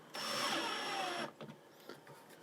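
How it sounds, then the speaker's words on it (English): Cordless drill driver steadily running a screw into a shelf while mounting a satellite indoor unit for a Sphere automatic roof-mounted dish, one continuous whirring burst of about a second, then brief clicks and handling noises. "So we're going to screw it up to the shelf there right now."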